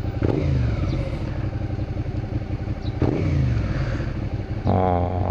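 A Suzuki SV650 with an SP Tadao aftermarket exhaust idles with a deep, loping rumble, uneven thumping pulses close by, with a couple of short throttle blips.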